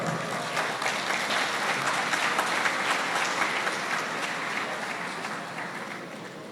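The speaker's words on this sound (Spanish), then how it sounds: "Un aplauso para él." An audience applauds as a speaker takes the floor at an academic event on expert evidence and due process: full, sustained clapping from a sizable crowd, steady and bright, tapering slightly toward the end.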